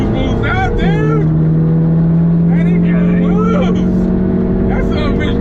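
A big-turbo Mustang EcoBoost and a Mustang GT in a street race give a loud, steady engine roar with a sustained low drone. Brief whistling turbo and shift chirps sit on top, and the noise stays constant throughout.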